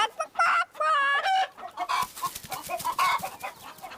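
Several chickens cluck and squawk close by in quick, uneven bursts, with one drawn-out call near the start and softer pecking clucks after.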